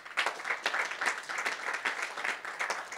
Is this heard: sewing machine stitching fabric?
no